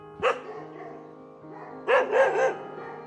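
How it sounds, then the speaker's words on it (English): A dog barks close by, one sharp bark followed after a pause by a short burst of three quick barks. "After a moment, an answering bark was heard."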